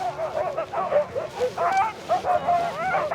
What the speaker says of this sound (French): c'est des chiens qui adorent faire ce qu'ils font